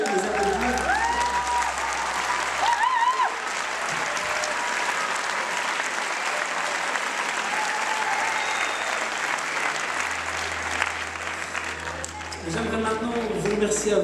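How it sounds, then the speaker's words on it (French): Sustained audience applause at a benefit concert in a theatre, a dense continuous wash of clapping from a large crowd with a low hum underneath and a few voices near the end. "Donc on peut aussi vraiment les applaudir."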